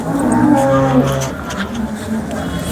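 A large cow moos loudly nearby at a cattle market in Sangola, one long low drawn-out call that trails off into a softer lowing, with faint background noise.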